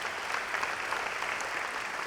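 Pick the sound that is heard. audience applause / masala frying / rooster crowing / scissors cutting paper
audience applause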